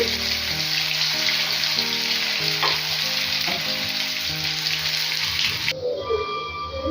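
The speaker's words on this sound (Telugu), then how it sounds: "ఇలాగే మిగతా అవన్నీ కూడా ఫ్రై చేసేసుకోవాలి" Leftover roti snacks deep-frying in hot oil, a steady loud bubbling sizzle that fills the whole stretch, easing off sharply near the end.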